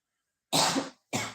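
Two sharp coughs close to the mic, the first longer and fuller, the second a quick follow-up after a short pause.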